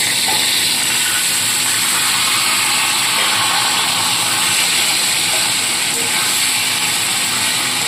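Boiled taro greens hit a pan of hot tempering for a hilsa-head dish, setting off a loud, steady, close sizzling hiss that fills the whole stretch.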